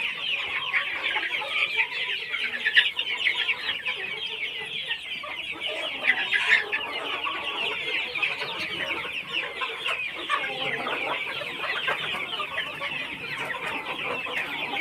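Desi country chickens cluck and chatter continuously on a poultry farm, a dense, busy flock sound at moderate distance with no talk over it.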